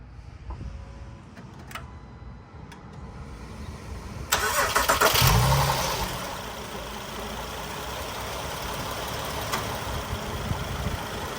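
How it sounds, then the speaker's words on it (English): A 2010-2013 Acura ZDX engine cranks and catches, surging briefly before settling into a steady idle, heard up close after a few faint clicks. "Start the engine."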